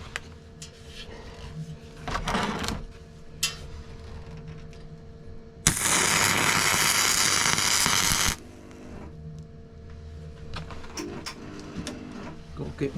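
A single tack weld on 6mm steel plate for a crossmember: a loud, steady crackling hiss lasting about three seconds and cutting off sharply, with shop clatter and a low hum before and after.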